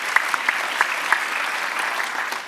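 An audience applauds after a reading at an endowed literary lecture, a steady wash of many hands clapping with a few sharper claps standing out, fairly loud and continuous for a couple of seconds.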